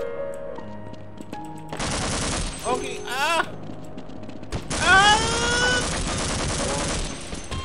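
Bursts of automatic gunfire against assassins in the Half-Life video game, loud rapid volleys in two main stretches with mechanical clicks between, while someone briefly talks.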